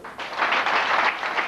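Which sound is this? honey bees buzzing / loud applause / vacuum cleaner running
loud applause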